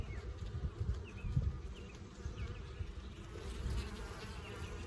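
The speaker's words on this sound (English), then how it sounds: "there are bees wall to wall again" Honey bees swarming over open hive frames in early March, a continuous soft buzzing hum from many insects close by, fluctuating gently with no voices.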